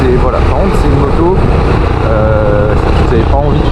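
Yamaha YBR 125 motorcycle accelerating on a straight, its engine note rising and falling in pitch close by, while someone talks steadily over the engine throughout.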